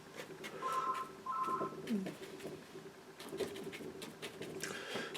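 A phone buzzing or chiming in short repeated tonal bursts near the start, faint and indoors, with soft brush-and-studio rustling around it.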